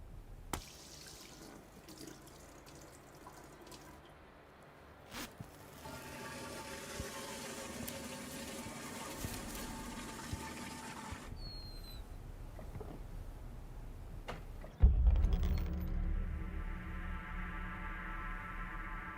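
Water is poured and splashes into a vessel in a dubbed Indian action film scene, with a steady trickle building to a louder, closer gush near the end and no talk.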